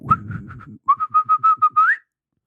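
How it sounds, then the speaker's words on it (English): A person whistles a quick, light tune like a phone notification: a few short chirps over a low rumble, then a rapid run of clipped notes ending in a rising slide, close and alone. "similar to the quick light whistle notification you get from a phone. Usually this"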